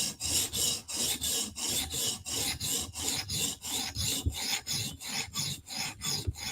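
Rhythmic, evenly spaced rasping passes of a Protech Mordax blade on a coarse 150-grit stone in a TSProf Kadet guided sharpener, about two strokes per second, close and loud.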